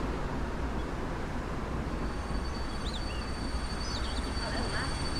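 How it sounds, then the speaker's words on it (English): A passenger train passing in the OMSI 2 bus simulator game on a route through Cotterell, a loud steady rumble that fills the clip from start to end with faint high whines above it. "Why is the train so loud?"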